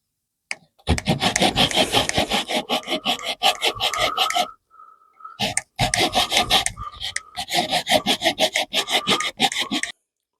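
Handsaw cutting roughly halfway through a round piece of wood, with rapid rhythmic back-and-forth strokes, close and loud, pausing briefly midway before resuming in quick, even passes.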